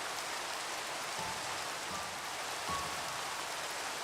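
Steady rain falls in a blocky sandbox video game, a constant hiss of droplets heard close and alone, with a few faint low thumps underneath.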